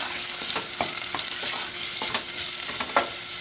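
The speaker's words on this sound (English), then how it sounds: "So I add that in there and I give it a stir." Red, orange and green bell peppers sauté in a hot pan, a constant sizzle broken by repeated scraping and tossing strokes from stirring at an irregular pace, close and fairly loud; no one talks.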